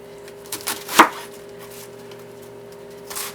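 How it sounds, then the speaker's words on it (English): A knife cuts through cabbage core on a board, making a few soft taps and one sharper crunching chop in a quiet kitchen with a faint steady hum behind. "I was slicing some of the core of it"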